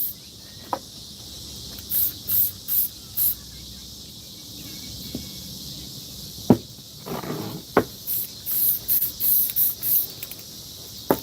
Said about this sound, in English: I'm spray painting